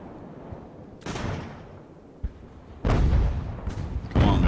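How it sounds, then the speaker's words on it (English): Sailing-ship cannons firing in the naval battle game Ultimate Admiral: Age of Sail, a few loud deep booms with rumbling tails, the last ones heavier and closer together. "Those guns going."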